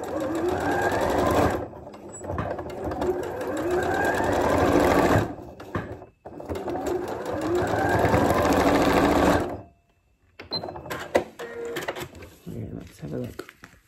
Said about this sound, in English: we're gonna sew it from there to there, hoping we've got it in the right spot